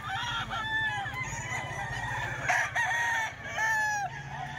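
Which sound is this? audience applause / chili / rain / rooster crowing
rooster crowing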